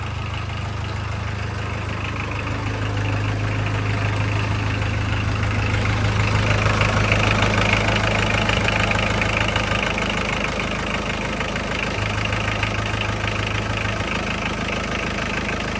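A turbocharged VW Golf Mk2 engine idles steadily while warming up after a rebuild, a close, even low hum with a rumbling tone that swells slightly midway and settles again, no voices over it.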